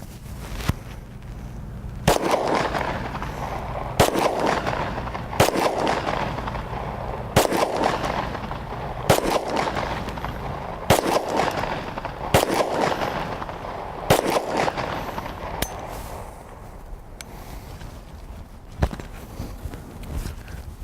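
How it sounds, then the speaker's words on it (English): A Glock pistol frozen in ice being fired, about ten sharp shots spaced roughly every one to two seconds, loud and close with faint movement between them. "So there you go, got it shot a few times."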